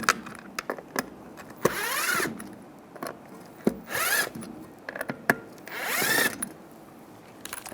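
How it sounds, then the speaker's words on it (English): Power screwdriver backing screws out of the center console of a 2007-2013 Chevy Silverado truck, several short whirring bursts separated by clicks and handling noises at close range, no speech. "Use the Phillips head screwdriver."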